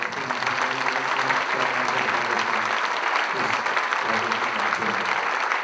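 Loud, dense applause from a crowd at a miners' Saint Barbara celebration in Eisenerz, Austria, holding steady for the whole stretch, with some voices mixed into the clapping.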